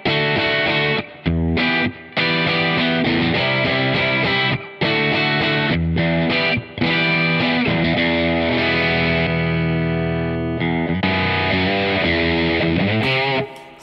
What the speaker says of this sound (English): That's like a thing to overdrive. So clipping.